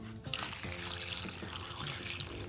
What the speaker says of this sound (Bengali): কুমড়োগুলো এখন ধুয়ে নেব